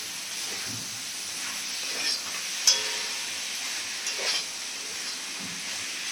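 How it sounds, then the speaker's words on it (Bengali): Ash gourd fries with ground spice paste in a pan, giving a steady, soft sizzling hiss with a few brief louder crackles along the way, close and without talk. "এই মশলা দিয়েও আমি ভালো করে একটু কষিয়ে নেব"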